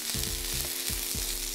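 Chicken galbi fried rice sizzling on a Korean BBQ grill, a loud, steady frying hiss with low clunks of a utensil scraping and mixing underneath.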